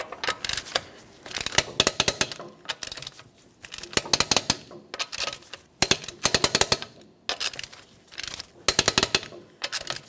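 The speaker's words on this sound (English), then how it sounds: "we're going to torque these to that 80 foot-pounds in a crisscross manner" A torque wrench tightens the wheel lug nuts on a 2012-2015 Honda Civic in a crisscross pattern, giving bursts of sharp, rapid metallic clicks that come in repeated clusters with short pauses between them.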